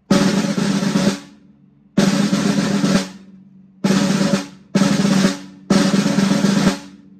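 A snare drum plays closed press rolls in five dense, sustained buzzes, each about a second long and separated by brief pauses. The sound is close and loud, with no voices.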